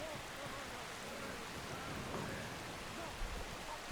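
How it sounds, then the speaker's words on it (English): Steady rain falling in the Skyrim video game world, a dense, even hiss of drops that stays constant and moderately quiet throughout, with no distinct thunder claps. "It's raining"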